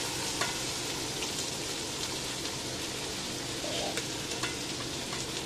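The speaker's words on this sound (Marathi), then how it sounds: "बटर मेल्ट झालं की आपण तयार केलेली जी पाव भाजी आहे ना ती याच्यामध्ये टाकायची." Pav bhaji mixture sizzling and frying in melted butter in a pan, a steady dense hiss with soft stirring scrapes throughout, close and continuous with no talking.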